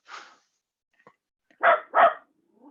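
A dog gives two quick, loud barks up close, after a faint yip or shuffle and a short silence, with nothing else in the background.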